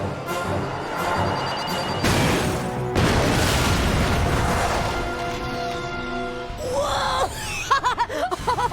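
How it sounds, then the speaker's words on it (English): A Ratchet & Clank video game explosion booms loudly and rumbles on for several seconds, followed by cartoonish character chatter and game effects near the end. "Check out that explosion!"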